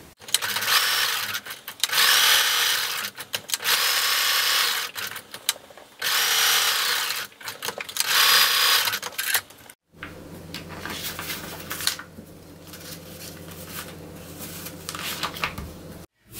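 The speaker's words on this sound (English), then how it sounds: "Now we're going to sew all the way around the square with a 1/8 inch seam allowance" A sewing machine stitches around a small fabric bookmark square in several loud, close bursts with brief stops, followed by a quieter stretch of fabric handling.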